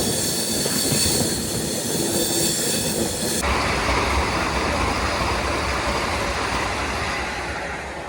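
A passenger train on the run from Hazrat Nizamuddin toward Faridabad, heard from inside a general-class coach: a loud, continuous roar of wheels on rail with rattling and clatter throughout, and no voices.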